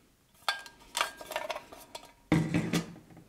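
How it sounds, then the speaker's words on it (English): A utensil stirs a drink in a pot, giving a few close, sharp metallic clinks and scrapes in short bursts with brief pauses between them, ending in a cluster of quicker taps. "then we'll give it another stir."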